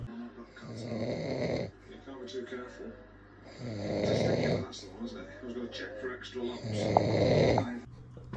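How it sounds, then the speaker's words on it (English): A man snoring heavily nearby, with three long, loud rasping snores separated by quieter breathing, rhythmic and close. "That's him there, snoring his head off."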